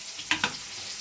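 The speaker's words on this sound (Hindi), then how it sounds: "तो जी टमाटर हमारे फ्राई हो रहे हैं" Tomatoes frying in a pan, producing a soft steady sizzle with two brief louder crackling bursts close together in the middle, otherwise quiet with no talking.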